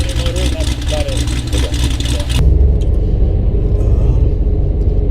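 A 416 stroker LS3 V8 in a Pontiac G8 rumbles steadily from inside the cabin during break-in, a low continuous drone that grows slightly louder partway through as the car gets moving.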